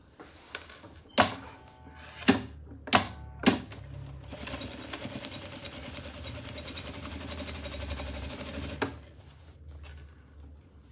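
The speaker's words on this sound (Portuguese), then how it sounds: "E faço aquela costurinha plana." A sewing machine stitches a flat seam on a double necessaire. A few sharp knocks and bursts come first, then the needle runs in a steady mechanical whir for about five seconds and stops. It is close and moderately loud.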